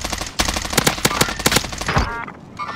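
Rapid bursts of automatic gunfire in the Call of Duty Warzone video game, several sharp loud volleys in quick succession, ending in a lower thud and fading to quieter ambience.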